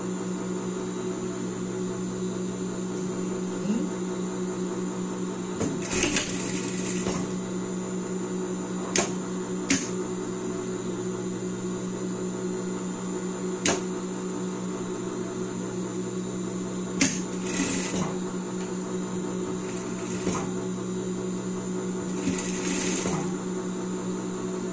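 A sewing machine stitches the side seam of a shirt with a steady mechanical hum and whir throughout, broken by a few sharp clicks and short louder bursts.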